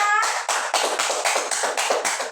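A group claps steadily, loud and close, with a brief tone at the start before the applause takes over.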